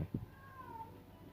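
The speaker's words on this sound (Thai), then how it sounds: "นั่นแมวก็ร้องอยู่นั่นแหละ" A cat meows once, a faint, drawn-out rising and falling cry over low background rumble, preceded by a couple of soft thumps.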